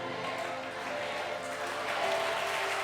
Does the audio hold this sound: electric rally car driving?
no